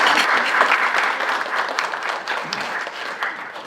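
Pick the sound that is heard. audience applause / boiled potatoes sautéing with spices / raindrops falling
audience applause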